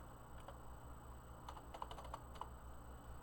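Faint, quiet keyboard typing, a few scattered key taps then a quick cluster of clicks over a low steady hum.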